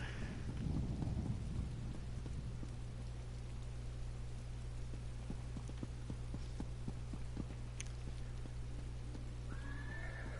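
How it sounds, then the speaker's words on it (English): Steady rain with low rolling thunder in The Elder Scrolls Online, a continuous wash across the whole stretch, with a horse whinnying and hooves clip-clopping near the start. "It looks like rain to me."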